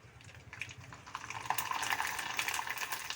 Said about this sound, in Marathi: आता आपण सांडगे तळून घेऊया